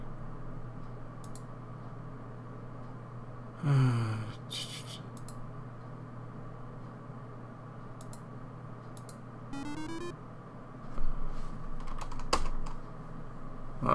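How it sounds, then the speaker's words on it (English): Computer keyboard keys pressed repeatedly while trying to get an Ultimate Play the Game retro title running: scattered light clicks and taps over a steady electronic hum, with a couple of brief sweeping computer tones and no talking. "Why are the keys not working? Let me try it again."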